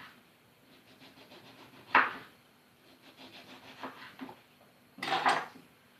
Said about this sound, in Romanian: Și o să tăiem feliuțe subțiri. Și o să le punem pe gratar.